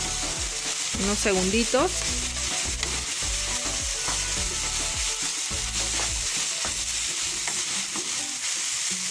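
Ground beef seasoned with pepper and cumin sizzles steadily in a pan while a utensil scrapes and stirs it in repeated strokes, close and loud, with a brief spoken phrase partway through.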